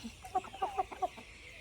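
A rooster on a homestead gives a quick run of soft clucks, five or six short calls close by but fairly quiet, with no talking.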